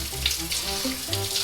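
Tap water runs steadily into a sink for a saltwater soak of harvested broccoli, a close, continuous splashing hiss with no talking.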